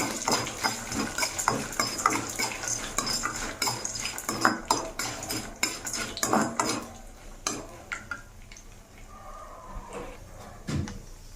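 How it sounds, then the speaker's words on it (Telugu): A spoon stirs peanuts into brinjal chutney in a metal vessel, making repeated close scrapes and clinks that fade toward the end with a few louder knocks. "వీటిని ఇప్పుడు ఒకసారి బాగా కలిపి మిక్స్ చేస్తున్నాం"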